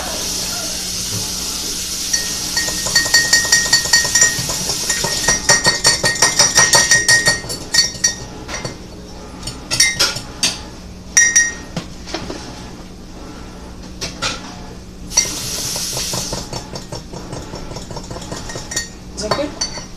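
A thick flour roux stirred in a pot for chicken curry, with a metal spoon scraping and clinking against the pot in busy, uneven bursts, close and fairly loud, with brief voices nearby.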